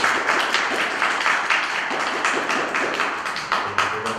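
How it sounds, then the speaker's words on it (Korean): Audience applause opening a history and culture lecture, a dense, steady clapping from a full room that holds for about four seconds with no talk over it. "박수 부탁드립니다."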